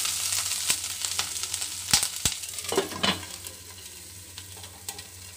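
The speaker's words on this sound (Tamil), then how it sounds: "கொஞ்சமாக எண்ணெய் விட்டுருக்கிறதுனால எல்லா காயிலையும் நல்லா பதற மாதிரி நல்லா மிக்ஸ் பண்ணி விட்டுட்டு இதை வந்து கவர் பண்ணிடலாம்" Mushrooms and mixed vegetables fry in a little oil for a mushroom pepper fry, giving a soft sizzle broken by scattered spoon clicks and scraping stirs, with a brief flurry of stirring midway.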